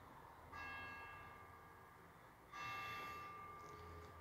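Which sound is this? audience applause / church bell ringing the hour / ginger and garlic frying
church bell ringing the hour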